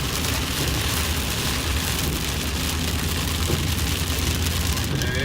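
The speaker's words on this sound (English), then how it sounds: "Yeah, here's the rain." Steady rain drums on a car roof and windshield while driving in Virginia in August, a dense constant patter over low road rumble, no voices.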